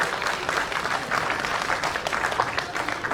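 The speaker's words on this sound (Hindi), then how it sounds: "एक बार जोरदार तालियां।" Loud audience applause fills a Teachers Day function in Kotdwar, Pauri Garhwal, a steady wash of many hands clapping throughout with a faint murmur beneath.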